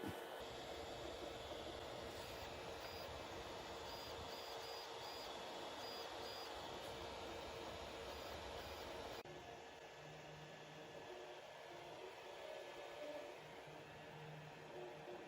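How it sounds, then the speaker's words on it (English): Longer LK5 Pro 3D printer running continuously, a steady broadband mechanical whir with faint stepper tones, even and unbroken throughout with no talk. "So this printer has been running non-stop for about 2 weeks."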